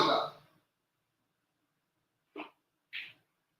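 A dog gives one louder bark followed after a pause by two short, quieter yips, close by in an otherwise silent room.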